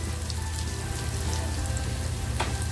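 Onions fry in a pan for spicy egg masala with a steady, close crackling sizzle and fine popping, continuous and unaccompanied by talk.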